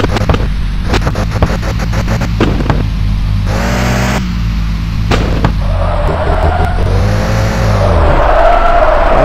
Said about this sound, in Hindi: ये देख रहे हो ड्रिफ्ट, देख रहे हो मैंने कुछ स्पीड भी नहीं थी गाड़ी की